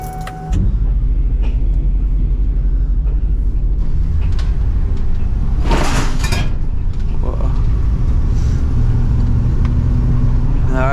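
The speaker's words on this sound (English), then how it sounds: "First time really driving this BoxVan." A box van truck drives along with a steady, loud engine rumble and road noise throughout, a brief whoosh of passing traffic midway, and people talking over it.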